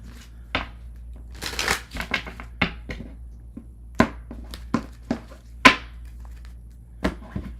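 Tarot cards being shuffled by hand in a warm room, a string of sharp riffling bursts and soft slaps at an irregular pace, close and loud against a faint steady hum.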